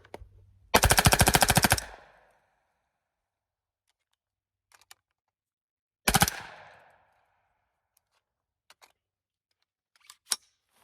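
A rifle fitted with a Hoffman Tactical Super Safety fires a loud rapid burst outdoors, then a second short burst after a pause, followed by a few faint clicks and one single sharp report.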